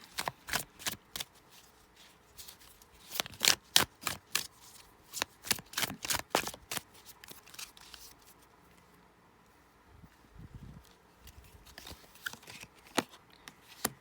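Tarot cards being shuffled by hand, a run of crisp papery riffles and slaps in quick bursts, close up, with pauses between flurries and no talk.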